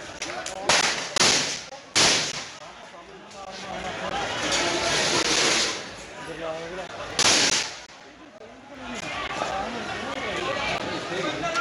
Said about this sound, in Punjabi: ਗੋਲੀ ਚੱਲਣ ਦੀਆਂ ਆਵਾਜ਼ਾਂ ਆ ਰਹੀਆਂ ਨੇ